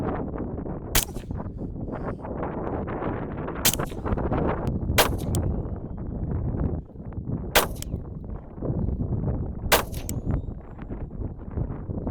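Sharp, loud rifle shots of IMI Razorcore 5.56 ammunition crack out one at a time at irregular intervals, five in all, over a constant rumbling background of wind or outdoor noise.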